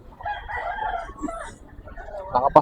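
A rooster crows at a poultry market, its harmonic, wavering calls fairly close, with faint background voices and the squawks of other fowl.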